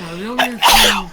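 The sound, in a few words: sneeze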